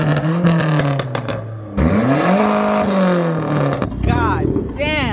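A car engine revs up and down a couple of times, rising and falling in pitch, with people cheering and talking excitedly over it.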